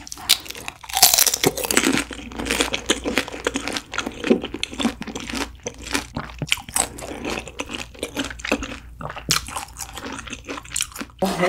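Crispy grilled beef intestines (gopchang) being bitten and chewed close to the mic, with loud irregular crunches and wet squishy chews repeating throughout, no talking.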